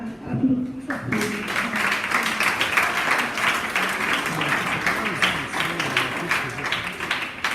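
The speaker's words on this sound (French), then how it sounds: "Vous pouvez acclamer pour vous-même." An audience at a launch ceremony for an association against school bullying bursts into sustained applause and cheering, a dense wash of clapping that starts abruptly and stays loud.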